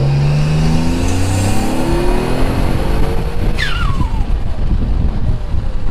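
A Mitsubishi 3000GT / Dodge Stealth engine pulls at quarter throttle, a loud close rising drone that climbs steadily in pitch as the car accelerates, with no talk.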